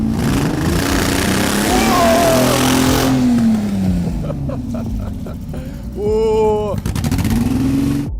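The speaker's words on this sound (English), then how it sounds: "Are you trying to do a burnout or something?" A home-built Lamborghini replica revs hard during an attempted burnout, its engine roaring and rising and falling in pitch up close, while people talk over it.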